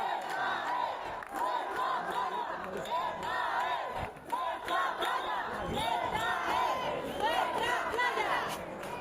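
Dense crowd on a Ceuta beach chanting and shouting in unison, loud and close, with rhythmic massed voices sustained throughout and no individual speech standing out.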